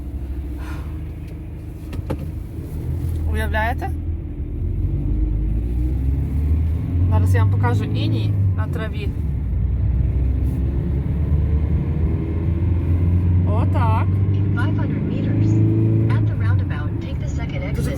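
A semi-cargo car with heated glass drives along a frosty winter road in the Netherlands at minus seven, a steady low engine and road rumble continuing throughout beneath a person talking from inside.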